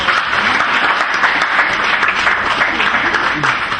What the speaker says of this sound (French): Je préfère qu'on applaudisse pour son courage.